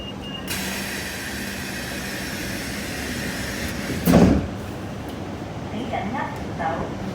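Light rail train doors on a Hong Kong platform give one short, loud clunk with a hiss of air, set against steady rumbling station noise with faint voices around.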